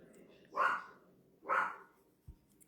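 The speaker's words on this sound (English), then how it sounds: "Is Lovey barking bothering you" A dog barks twice, loud and close, in a quiet indoor room at a drawing desk, with a faint thump between the barks.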